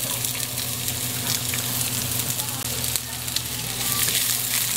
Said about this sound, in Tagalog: Sa sibuyas, hintayin lang natin silang maging translucent para lumabas ang lasa nila.